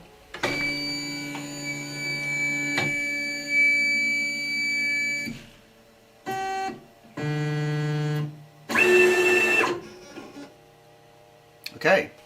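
Pick-and-place machine homing its axes, producing several tonal motor whines and buzzing stepper-drive tones in separate bursts of differing pitch and length, with short gaps of quiet between them.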